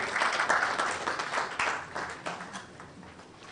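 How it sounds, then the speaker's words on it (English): A burst of applause from an audience, loud at first and gradually thinning out over a few seconds. "Let's welcome her with a round of applause."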